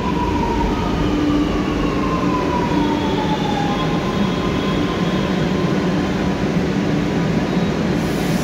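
A metro train arriving at a station in Lucknow, a loud steady rumble with rising and falling tonal whines from the motors, continuous and close throughout.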